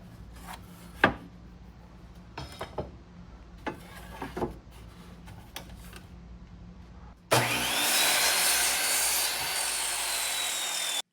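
A power saw cuts bevels in cedar fence pickets, spinning up to a loud, steady whine for several seconds, preceded by scattered knocks and clunks of wood being handled.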